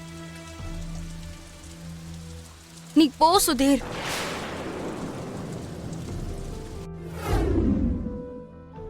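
Steady rain pours down throughout in an outdoor setting, a dense continuous hiss with a brief whoosh near the middle, while people speak over it at moments.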